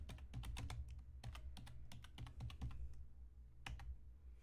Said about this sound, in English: So I'll type it in the chat.